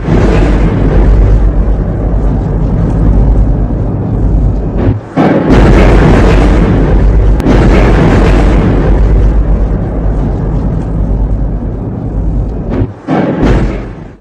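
A loud, rumbling blast from an attack roars and echoes, with a second heavy burst partway through and brief dips between, booming and close.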